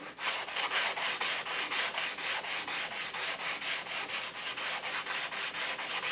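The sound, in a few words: fine sanding a guitar fretboard radius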